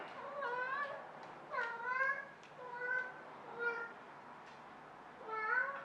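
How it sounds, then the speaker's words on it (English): A pet cat meows repeatedly indoors, five or six distinct rising-and-falling calls spaced about a second apart, close and clear against a quiet background. "Oh, and I have a cat, so."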